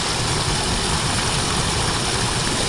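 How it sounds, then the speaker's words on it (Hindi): Floodwater rushing through a rice field after a night of heavy rain in a village, a loud, constant, dense roar that fills the whole clip without change, with no talk over it. "और पानी का आवाज आप लोग सुन सकते हैं,"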